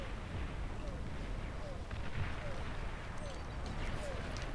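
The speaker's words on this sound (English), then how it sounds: "And finally the agitator goes down to the naval bombardment." Naval bombardment rumbles in the Beyond All Reason strategy game, a faint wash of distant artillery thuds and bursts under a voice talking over the action.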